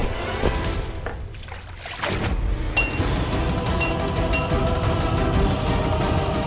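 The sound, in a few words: water being thrown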